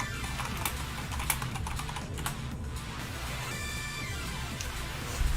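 Fast typing clatters on a computer keyboard during an online call, a steady stream of close, crisp key clicks over a low background rumble.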